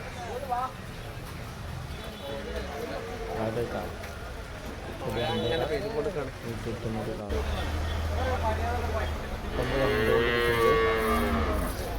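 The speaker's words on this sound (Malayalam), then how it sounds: "പത്ത് കാളകൾ പത്തോളം കാളുകൾ ഇങ്ങനെ കെട്ടിയിട്ടുണ്ട്" Several bulls tethered at an outdoor cattle market low at intervals, their drawn-out moos mixing with people talking nearby.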